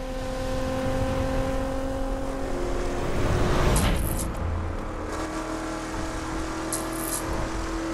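A car driving in The Crew video game, a steady engine drone with a swell in revs midway, continuous and close with no talk.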